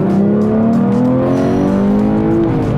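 A Porsche 911 GT3 Touring engine pulls hard under acceleration, its loud, rising engine note climbing steadily and close by, with no talk over it.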